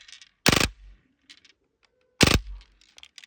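A Crosman M1 BB gun powered by CO2 fires on full auto in two short, loud, sharp bursts about two seconds apart, each fading into a faint hiss, with quiet in between.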